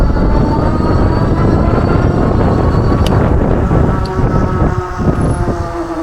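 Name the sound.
electric bike accelerating on throttle only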